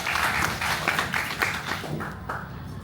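Sustained applause from a meeting audience at a Toastmasters club gathering, steady dense clapping throughout, fairly close and even in loudness.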